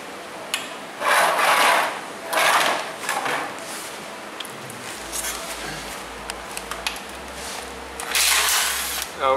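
A 10 mm socket ratchet loosens oil pan bolts on a VW transmission during a valve body repair, giving repeated ratcheting bursts and metallic clicks close to the microphone, with a low rhythmic pulse in the later part.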